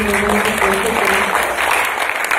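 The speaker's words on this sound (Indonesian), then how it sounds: "kita beri aplaus dulu dong" Audience applause at a youth achievement talk event, a steady, dense wash of clapping filling the whole short stretch, fairly loud and close, with no pauses or talk over it.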